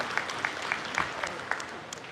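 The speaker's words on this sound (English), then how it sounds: "Can we get a round of applause for Mason, please?" A few scattered hand claps sound faintly from a small audience around the red and white ring at a spring Milking Shorthorn cattle show, spaced unevenly and quiet against the room.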